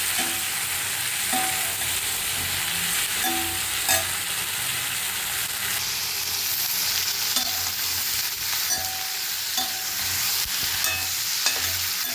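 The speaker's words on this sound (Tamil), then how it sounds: "நல்லா வதங்கட்டும் வதங்கிட்டு இருக்கு" Onion, tomato, ginger and garlic sautéing in a pan give a steady, loud sizzle throughout, with occasional soft clinks and scrapes of stirring; no one speaks.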